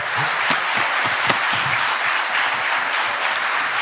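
Audience applause at a finance corporation fund launch event fills the room, a dense, steady patter of many hands clapping continuously at close range with no voices.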